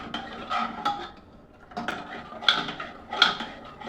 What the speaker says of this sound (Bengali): ঘুটে নিব চামচে করে